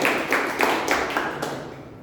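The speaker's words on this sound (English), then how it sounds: "Please give a big round of applause for Toastmasters" Applause for a Toastmasters club member at a club meeting, a steady patter of clapping with a few sharper claps standing out, fairly close and filling the whole moment before it starts to fade.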